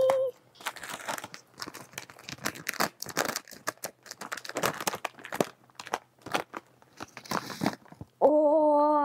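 Crinkling plastic snack package being opened up close, with dense irregular crackles and crunches for about eight seconds before a voice begins speaking.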